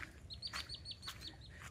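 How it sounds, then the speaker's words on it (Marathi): Sharp, high repeated calls of a red-wattled lapwing ring out in short bursts near a hill shrine, over a low steady background rumble with no voices. "हे टिटवी बघा"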